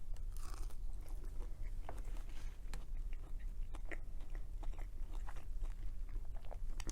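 Close, crisp crunching bites and chewing on a breaded fish stick with tartar sauce, in repeated irregular crunches with no talking.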